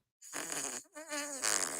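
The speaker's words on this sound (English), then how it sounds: "Oh, the fart app." Two drawn-out, buzzy fart noises from a phone app with a brief gap between them, synthetic and sputtering, up close in otherwise quiet surroundings.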